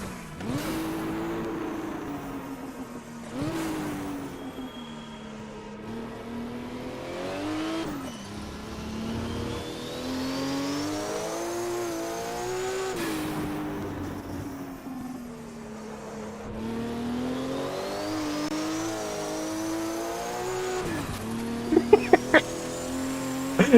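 Group 5 race car engines in the Automobilista racing game whine and rev steadily, rising and falling through gear changes, with other cars droning around; a few sharp clicks near the end.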